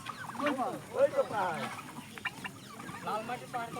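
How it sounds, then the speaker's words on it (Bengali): A large turkey in a park gives a short burst of loud, rattling calls that are close and clear, followed by quieter clucking and rustling. "এইখানটায় দেখুন বড় একটা টার্কি মুরগি আছে"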